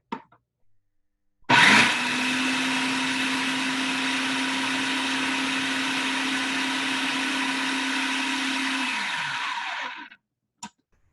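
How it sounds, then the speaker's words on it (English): A blender roars at a steady, loud pitch for several seconds, then winds down and stops, with brief knocks before and after, while blending ingredients for vegan gibanica. "I'm gonna blend that for a bit, so it's gonna get really loud"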